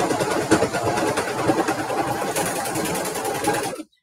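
Sewing machine stitching a fabric holiday bottle gift bag, a steady close rapid mechanical whirr running continuously for about four seconds before stopping abruptly, with no talking.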